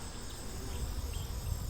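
A cluster of worker honeybees gathers around queen pheromone, giving a steady, close buzzing hum with no voices over it.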